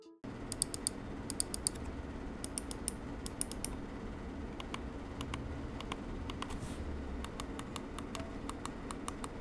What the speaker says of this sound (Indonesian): Klik kiri dan kanannya juga terasa dan terdengar enak feel-nya karena udah menggunakan Omron switches.